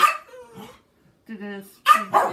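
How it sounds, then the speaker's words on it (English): Dogs bark and yip in short close bursts, with a whine-like tone in the middle, loud against a quiet background. "I don't know what's going on with my dogs here."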